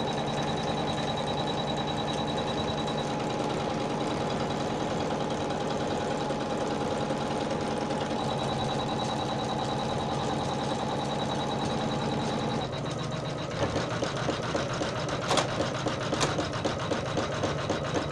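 Embroidery machine running steady satin stitching on an in-the-hoop bedside coaster, a continuous close mechanical whir that turns rougher after about thirteen seconds, with irregular clacks and knocks as the bobbin kicks up.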